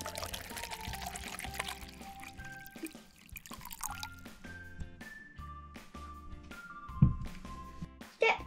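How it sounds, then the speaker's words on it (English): Milk pours into a bowl with a soft, steady liquid trickle under light background music, followed by a few faint drips and a small clink. "Step one, pour in the milk carefully."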